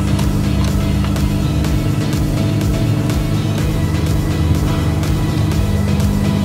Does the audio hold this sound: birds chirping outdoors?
no